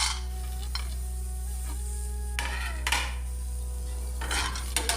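Dry roasting coriander stems, garlic and peanuts in a pan without oil: a low steady hum underlies a few distinct clinks and scrapes of a spoon stirring against the pan, with brief rustling bursts of ingredients being tossed.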